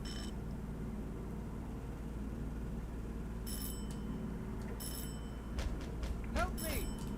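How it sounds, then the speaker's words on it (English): A doorbell rings in the horror video game Silent Hill 4, sounding as several short bursts of bright electronic ringing over a low, steady ambient hum, with someone talking at times. "The door is ringing."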